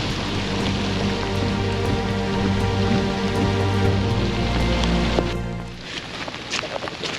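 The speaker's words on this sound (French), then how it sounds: "Alors voilà à quoi ressemble le désert quand il pleut." Steady rain falls in the desert, a dense, even hiss of drops that eases after about five seconds into sparser patter, with a low hum running beneath.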